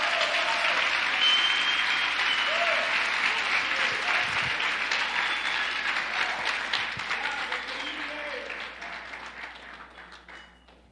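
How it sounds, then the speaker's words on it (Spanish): A church congregation applauds the King of Glory during a Sunday service, a full, sustained roll of clapping from a large crowd that fades gradually toward the end, with a few scattered voices and cheers inside it. "Aplaude al Rey de Gloria, por favor."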